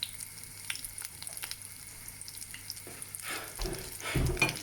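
Pilchard fish cakes fry in a pan with a steady low sizzle throughout, swelling louder near the end alongside brief clatter and watery kitchen noise.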